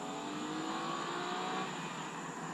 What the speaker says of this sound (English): That exhaust is quite subdued almost, but nice